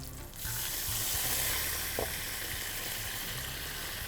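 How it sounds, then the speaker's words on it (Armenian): Soy sauce poured over pieces of chicken frying in a hot pan produces a loud, steady, close-up sizzle that swells after a brief quieter start and holds evenly throughout, with no speech. "ավելացում եմ սոյա սոսը"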